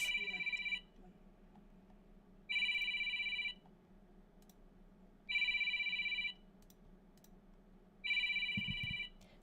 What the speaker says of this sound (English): I'm getting a phone call, but I'm not answering it